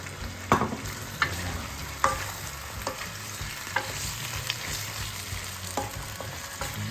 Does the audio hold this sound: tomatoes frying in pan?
yes